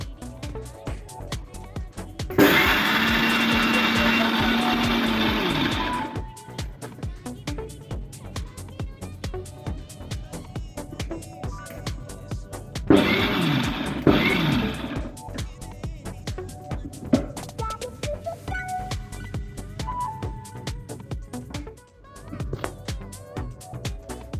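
A mixer grinder grinds roasted, skinned peanuts for North Karnataka-style peanut chutney, a loud broadband whirring burst of about three seconds followed by a second shorter run, with quieter kitchen background between.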